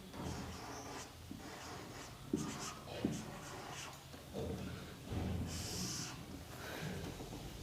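Chalk or marker strokes on a classroom board during a Class 10 English lecture, a few soft scratchy bursts with brief taps, fairly faint amid room noise, no talking.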